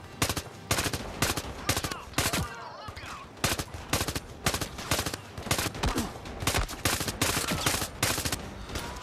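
Rapid automatic gunfire in the VR shooter Zero Caliber Reloaded during the Lumberyard mission on Oculus Quest 2, dense loud bursts of shots one after another with a brief gap near the middle, no talking.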